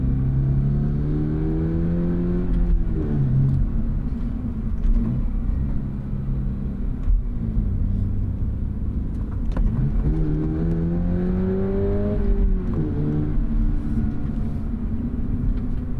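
A 2024 Subaru BRZ tS engine revs while driving, a steady close rumble with two clear rising sweeps in pitch as it climbs through the gears, no voices over it.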